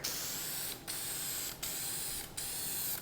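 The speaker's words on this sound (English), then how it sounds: "I'm just finishing it off with a couple coats of spray lacquer here just for some added protection." Spray lacquer is misted onto a wooden shelf from an aerosol can in three steady hissing bursts, each broken by a brief pause, close and fairly quiet.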